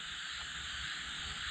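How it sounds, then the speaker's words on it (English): A steady chorus of frogs croaking close by in a swamp, continuous and dense, with a high cricket buzz layered over it. "We got frogs, crickets."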